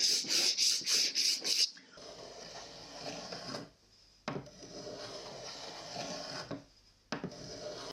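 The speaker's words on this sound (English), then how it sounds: "it's time to just give it a bit of sanding and a bit of planing" Hand sanding and planing a wooden charcuterie board, a quick run of rhythmic rasping strokes followed by softer scraping and rubbing at close range.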